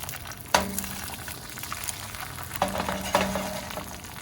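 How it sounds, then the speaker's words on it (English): Beaten egg hitting a little oil in a non-stick skillet, a sudden sizzle burst followed by steady frying, with a second flare of sizzling as the pan is swirled, close and fairly loud. "Little oil in a non-stick skillet. 1 egg beaten. Swirl."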